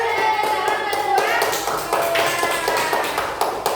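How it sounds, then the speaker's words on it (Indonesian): A primary-school class applauds a classmate who has just won a class leader election, a dense, steady patter of many small hands clapping together for a few seconds, with some voices mixed in. "Tepuk tangan untuk Mas Dava"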